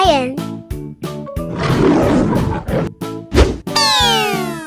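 A lion roars in a long, rough, rumbling burst in the middle, set against bouncy cartoon music with a steady beat and sliding whistle-like tones near the end.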